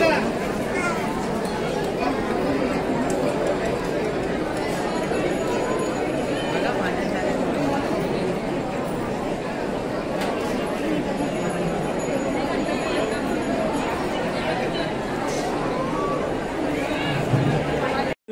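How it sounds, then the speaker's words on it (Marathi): Dense crowd of devotees at the Titwala Ganpati temple, a constant murmur of many overlapping voices filling the space with a steady babble, a few faint high tones ringing above it. "पाहताय मंदिराच्या आतमध्ये प्रचंड प्रमाणात गर्दी आहे बाप्पाच्या दर्शनासाठी"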